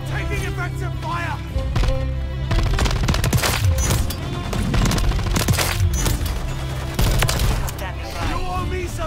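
Rapid automatic gunfire and explosions in Call of Duty MWIII: dense, loud bursts of shots layered with booms, game voice callouts and tonal effects throughout.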